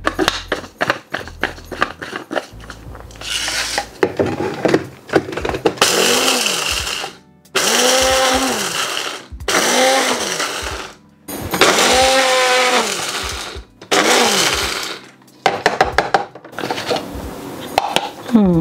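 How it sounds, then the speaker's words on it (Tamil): A mixer grinder coarsely powders three roasted spices in loud bursts separated by pauses, with a person talking in the gaps. "நல்லா பவுடராக அடிக்காமல் ஒரு அறுவல் நொறுவலாக அடிக்க போகிறேன்"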